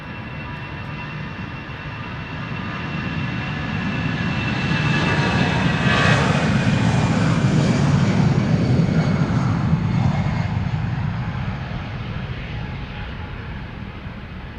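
An EasyJet airliner's jet engines roar at Amsterdam Schiphol Airport. The broad rumble swells to a sustained peak midway, then gradually fades as the aircraft passes.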